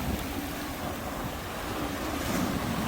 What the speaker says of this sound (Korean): 파도가 좀 있네요